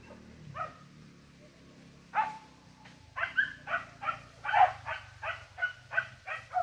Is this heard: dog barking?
yes